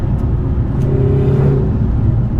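A Lotus Emira with a 2.0 turbocharged engine accelerating on a winding road, a loud steady drone from inside the car that rises slightly in pitch over a couple of seconds, with no talk.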